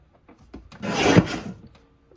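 A paper trimmer slicing through cardstock for a scrapbook page kit, a single short rasping cut that swells and fades within about a second, close and alone.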